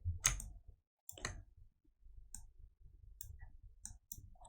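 Computer mouse clicks while working in software: a sharp, close click near the start and another around one second, followed by several lighter, quieter ticks spaced irregularly over a faint low background.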